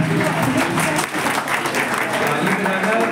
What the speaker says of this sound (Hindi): ताली बजाना सेहत के लिए बहुत जरूरी होता है, तो ताली बजाने में कोई कंजूसी नहीं करनी चाहिए।